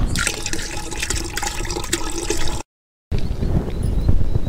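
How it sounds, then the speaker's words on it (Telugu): Five litres of water pour into a pot holding a mixture of cow dung and cow urine, a steady close splashing gush that breaks off briefly and then carries on. "తర్వాత 5 లీటర్ల నీటిని కలిపి నిల్వ చేయాలి"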